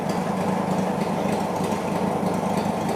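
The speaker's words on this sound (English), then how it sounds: "That's now in low idle. Again, this car has no muffler at all." A Porsche 911 Turbo (964) replica engine idles low with no muffler at all, a steady, loud, raw rumble that holds unchanged throughout, close and with no talking.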